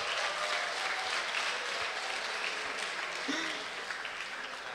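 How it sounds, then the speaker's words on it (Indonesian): Audience applause at an opening lecture, fairly quiet and distant, sounds as a steady wash of many hands clapping with no break and a faint voice briefly heard partway through. "Kita beri tepuk tangan dulu."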